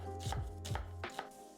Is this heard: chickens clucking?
no